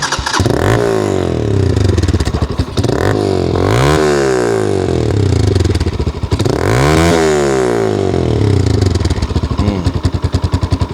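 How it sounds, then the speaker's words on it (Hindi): A motorcycle with an aftermarket Akrapovic R15 exhaust, baffle still fitted, revs loudly and close up, with repeated sharp throttle blips climbing and falling over a steady idle burble. "ये अकरापोविच R15 एग्जॉस्ट है विद बैफिल"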